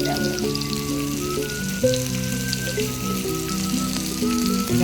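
Fish frying on a flat tawa for a Malvani halwa fry, a steady crackling sizzle under a sustained tonal musical backdrop, no talk.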